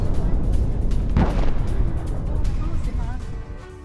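Continuous heavy rumbling and blasts from a Hezbollah missile attack on a residential building in Haifa, with one sharper burst standing out midway and no pause in the roar.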